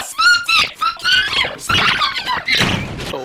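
Squeaky, pitch-shifted voice from a voice changer, two people arguing in rapid, distorted bursts that stay loud and close throughout.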